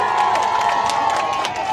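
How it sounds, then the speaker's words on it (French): A crowd in Kindia, Guinea, claps and cheers at an outdoor political rally, a loud, close mass of shouts, whoops and applause that stays dense and unbroken, with no talk over it. "Applaudissez!"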